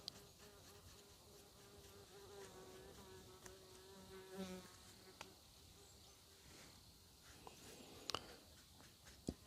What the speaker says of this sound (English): Being near a lake here, I've got lots of buzzing insects around me,